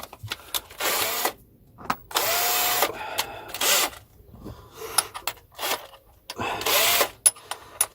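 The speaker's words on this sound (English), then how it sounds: "So we'll just drill that." A power drill bores into a cigar box guitar in several separate bursts of whining drilling, close and loud, with clicks and handling noises between runs and no speech.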